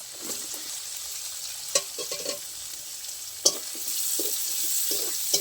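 Chopped onion and garlic paste fry in oil with a steady close sizzle, while utensil clinks and scraping stirs come every second or so and the hiss swells slightly toward the end.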